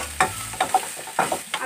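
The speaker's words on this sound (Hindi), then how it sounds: "बहुत ज़्यादा हमें वेजिटेबल को फ्राई नहीं करना है, बस हल्का सा।" Vegetables fry lightly in a pan, with a soft sizzle under several quick stirring scrapes and clacks of a spoon, close and brief.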